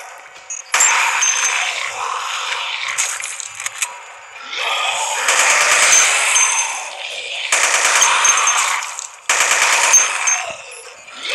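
Automatic weapon fire from the shooter video game Dead Effect 2 comes in loud, close bursts of rapid shots, separated by short silent gaps, with metallic clinks between bursts.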